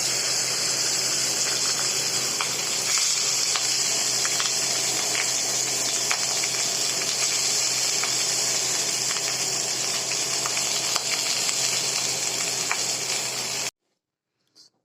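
Rice and chicken for Bengali-style fried rice cook in a pan on a gas stove turned to low flame, giving a steady close sizzle that runs evenly and then cuts off abruptly near the end.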